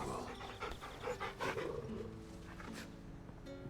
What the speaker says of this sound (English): Torgal is actually Jill's dog